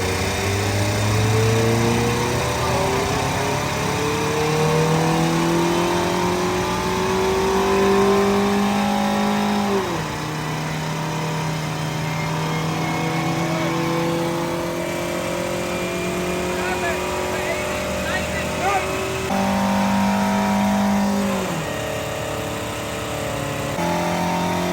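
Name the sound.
Mazda Miata NA engine revving on dyno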